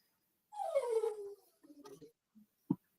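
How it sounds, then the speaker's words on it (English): A dog whimpers nearby in a high, falling whine, then gives a few softer yips and a short sharp yelp, with quiet gaps between. "Y'all hear that dog?"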